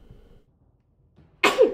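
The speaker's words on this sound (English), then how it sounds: "sneeze" A single loud, sharp sneeze bursts out near the end, preceded by quiet low murmuring and near-silence.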